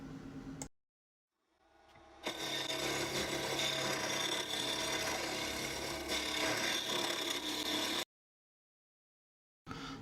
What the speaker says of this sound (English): I'm using, of course, the black line tools, carbide tools for the black African wood.